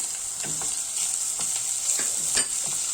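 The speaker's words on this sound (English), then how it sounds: "go ahead and add in your chopped up onion" Chopped onion sizzles in a hot pan for a celeriac dish, a steady bright hiss of frying broken by occasional soft stirring taps throughout.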